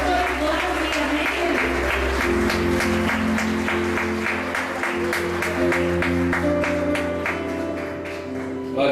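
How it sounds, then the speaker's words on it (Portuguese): A church congregation claps together in a steady, fast rhythm, many hands close and loud, with sustained singing or voices mixed in underneath throughout. "Vamos adorar a Deus agora com nossas palmas, agradecendo a Deus."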